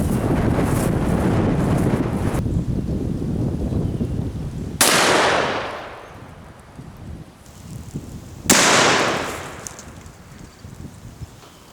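Two loud, close gunshots from a 500 S&W Magnum firing 350-grain hollow points at bulletproof glass outdoors, each a sharp blast that trails off into heavy wind noise buffeting the microphone.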